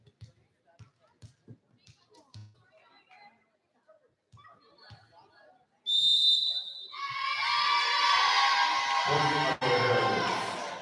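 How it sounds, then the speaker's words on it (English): A referee's whistle at a sectional semifinal volleyball match between Tinora and Ottawa Hills: low chatter, then one sharp, loud blast, followed at once by a roaring, cheering crowd. "The time the ref blows his whistle and beckons you to serve"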